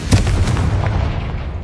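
A Confringo spell goes off in a Harry Potter video game, a loud, close blast with a deep booming burst up front that rumbles on with crackling debris and slowly dies away.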